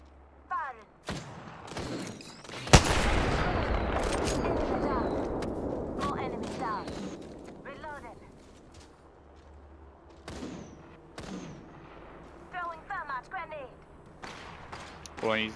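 Video game gunfire from an armed-and-dangerous loadout: a sharp close crack, then a long rumbling blast and scattered shots, with players talking over it.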